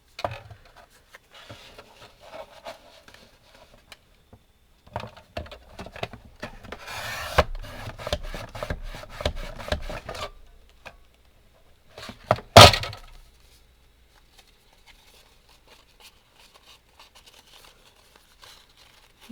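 A stack of paper is cut down to card size, making rough rasping and rubbing bursts with a sharp, loud snap near the end, then quiet; no voices.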